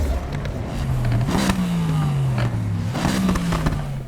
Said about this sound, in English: they didn't get the engine sound of the M3 Gtr quite right